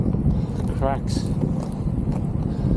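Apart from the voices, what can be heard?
wind on a cold windy night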